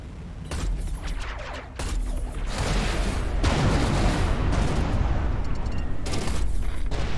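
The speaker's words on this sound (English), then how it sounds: "Much explosions." A barrage of explosions and weapon fire from the space combat game Everspace 2, dense rumbling blasts piling up and growing louder, with a dull continuous boom underneath.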